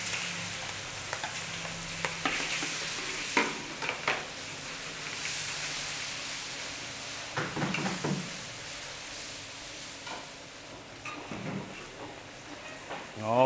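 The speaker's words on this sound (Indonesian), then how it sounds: "Intinya minyaknya harus panas biar nggak lengket. Oke, kita tumis sampai sedikit kecoklatan ya." Chopped garlic sautés in hot oil for a chicken dish, giving a steady broadband sizzle broken by occasional utensil scrapes and clatters against the pan.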